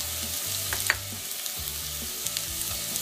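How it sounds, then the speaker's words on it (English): Onions frying with garlic, ginger and chili for chicken biryani give a steady close sizzle, broken by a few soft stirring knocks, with no voices. "Get it nicely fried here with all this mixture."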